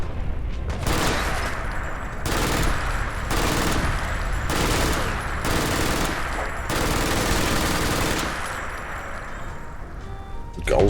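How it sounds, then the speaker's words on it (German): Gauss rifle firing in the Fallout London game, loud repeated blasts with a rushing, electric crackle, several long sustained bursts in a row close up, with a voice talking over them in places. "Gaussgewehr"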